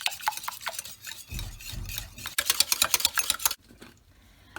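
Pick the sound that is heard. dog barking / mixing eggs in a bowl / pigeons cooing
mixing eggs in a bowl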